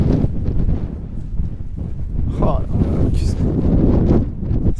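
Strong mountain wind at the Lacs de Vens in the Mercantour buffets the microphone with loud, continuous rumbling gusts, while a voice briefly speaks under the roar.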